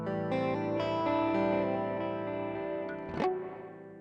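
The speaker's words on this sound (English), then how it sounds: "Got some reverb in there." Guitar played through a Walrus Qi Etherealizer effects pedal with reverb, sustained shimmering tones washing and decaying, a sharper strum near the end, no talking.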